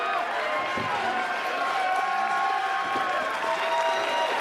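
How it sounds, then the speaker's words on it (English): Wrestling crowd at a CHIKARA show breaking into rallying applause and cheers, a steady dense wash of clapping and crowd noise sustained throughout with no pauses. "But some rallying applause as the Chikarmi finally sees Fire Ant."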